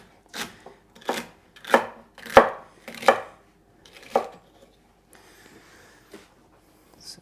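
Knife chopping celery coarsely for a pureed soup on a cutting board: about six crisp, close chops in an uneven rhythm, then softer scraping and quiet handling, no talk.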